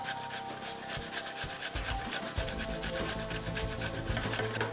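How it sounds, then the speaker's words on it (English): An onion is grated on a hand grater for a Turkish dish, giving fast repeated rasping scrapes close up in a steady rhythm, with no voices. "Now we're going to grate our onion."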